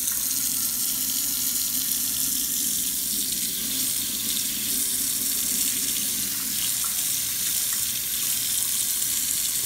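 Hot water runs steadily from a tap into a container, filling it with soap for a wet shave soap test; the splashing rush stays even and close throughout, with no voices.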